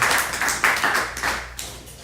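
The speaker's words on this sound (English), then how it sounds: "So big round of applause for all of you." An audience claps at a kirtan gathering, a bright, dense patter of hands rising in a few waves, fairly close and lively with no voices over it.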